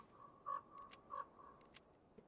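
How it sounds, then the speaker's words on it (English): Woodpecker tapping in the Escape from Tarkov video game: a few faint, sparse knocks spread irregularly over a quiet background, with a tonal croak-like call recurring alongside. "I hear a woodpecker."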